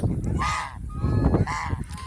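Geese of an improved breed honking loudly and close by, several nasal calls in quick succession with overlapping voices from the flock.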